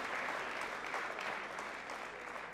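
Applause from a badminton arena crowd rolls on steadily after a brave cross-net shot by Karin Schnaase in the Swedish Masters 2016 women's singles final, sounding broad and somewhat distant.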